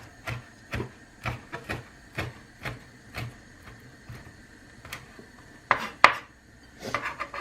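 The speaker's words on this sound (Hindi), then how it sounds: "अब ये जो 2-3 मिर्चें मैं इसको छोटी छोटी काट दूँगी" A knife chops green chillies into small pieces on a cutting board, a steady series of crisp taps roughly every half second, close and clear, followed by a couple of sharper knocks.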